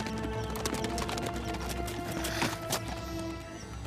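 Two soldiers and a lord ride in on horseback, giving steady rhythmic hoof clip-clops that grow louder as they approach, with music playing underneath.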